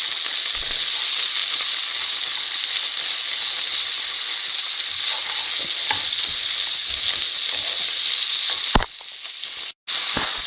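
Capsicums frying in a pan for an Indian chilli paneer, a steady close sizzle with faint stirring clicks throughout, broken by a brief pause near the end.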